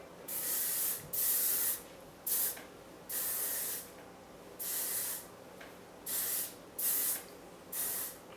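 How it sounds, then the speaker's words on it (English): Hairspray hisses onto hair in bursts, nine short sprays of roughly half a second each with brief pauses between, close and fairly loud, no talking. "Get your hairspray."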